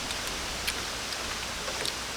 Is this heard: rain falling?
yes